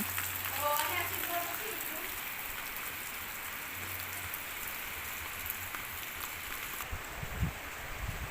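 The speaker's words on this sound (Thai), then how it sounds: "ฝนตกพี่น้อง" Steady rain hissing down on surfaces, with a few brief voice sounds early on and some soft thumps near the end.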